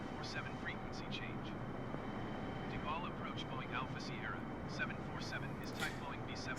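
An airplane engine at full throttle in a flight simulator video game, heard as a steady, low drone running under a person talking throughout.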